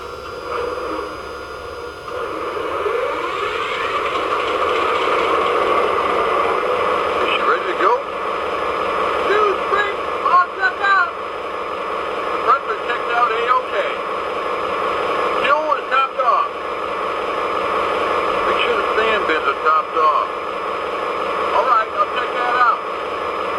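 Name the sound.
MTH Pan Am Railways GP-40 model diesel locomotive engine starting up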